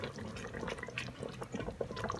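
Cornstarch and water slurry stirred into a sauce inside an electric pressure cooker, giving a steady close wet sloshing and liquid churning with small drips and splashes throughout, no voices.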